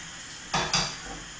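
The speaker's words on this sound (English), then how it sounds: "Let's have one more flip of our naan bread" Naan bread flipped in a pan during low-protein curry cooking: two quick, close clattering knocks of the pan a moment apart, then a low faint sizzle.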